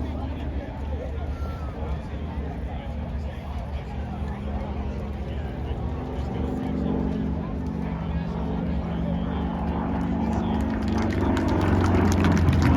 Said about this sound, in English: Listen to the power go back into the aircraft as he climbs.